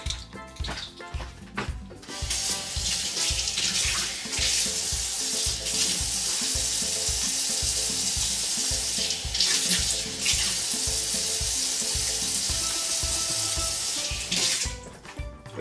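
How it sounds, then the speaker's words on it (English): Water pours steadily into a one pot salmon and vegetable dish, a continuous splashing hiss that runs loud and unbroken for several seconds, with faint clatter at the start and end. "I'm gonna add some water."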